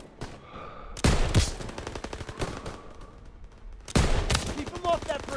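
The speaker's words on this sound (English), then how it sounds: "MGs, open fire." Machine gun fire from Call of Duty: WWII: loud, close bursts of rapid automatic shots, two heavy volleys with scattered rounds between, over battlefield noise and shouting.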